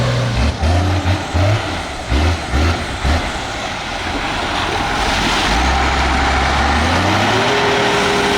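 A Terra Gator agricultural vehicle drives with a loud, close, rough engine roar; a few choppy low pulses give way to sustained heavy engine noise that rises in pitch toward the end.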